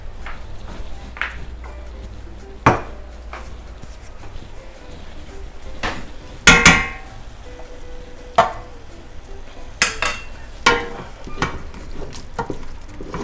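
Potatoes being mashed with milk in a bowl, soft squelching and scraping with irregular knocks of the utensil against the bowl, close and fairly quiet.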